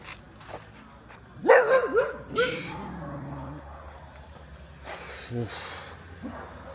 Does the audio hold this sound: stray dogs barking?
yes